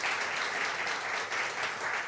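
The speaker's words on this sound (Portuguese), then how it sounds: "aplauda ao Senhor" A church congregation applauds at a service, steady dense clapping from many hands filling the room at an even level without a break.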